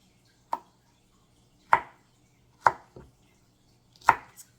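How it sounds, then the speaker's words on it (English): A knife slices through okra into chunks, making four or five crisp, separate thuds on a cutting board about a second apart, with quiet pauses between cuts. "With the okra, I'm going to just slice it up in probably about, I don't know, 1/4 inch, 1/2 inch, something like that, chunks."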